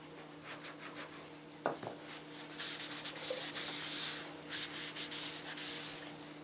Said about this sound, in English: if you're using score tape, make sure you burnish it really